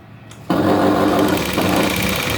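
A sewing machine starts up abruptly and runs a continuous stitching seam along a V-neck blouse, a close, steady whirring hum without pauses.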